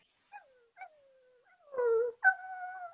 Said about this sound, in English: One more howl out of Edwina, and you would have had world cruise.